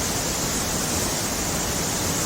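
Li Phi waterfall on Don Khon in southern Laos roaring over rocks, a dense, steady full-band rush heard close up with no voices.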